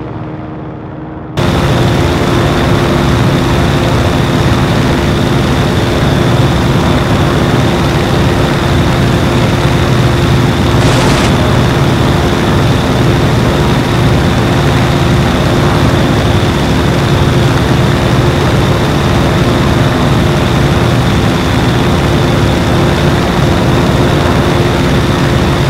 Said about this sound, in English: Great engine sound.